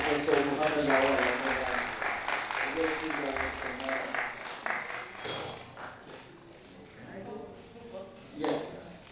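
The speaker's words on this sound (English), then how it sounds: "Another round of applause for Professor Muhammad Awad." Audience applause at the opening of a workshop on banana seed certification, rhythmic clapping that is fairly steady at first, then thins out while voices talk over it, with a short late swell.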